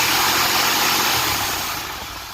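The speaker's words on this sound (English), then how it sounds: "As the motor revs up, those fan blades are actually pulling towards the front and forcing more air back." A 1972 Ford Gran Torino engine runs up close under the hood, with its fan spinning, giving a loud, steady mechanical roar with broad hiss that eases off slightly toward the end. No one speaks.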